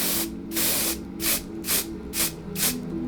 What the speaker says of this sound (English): Water resistant spray, so I'm gonna spray that on top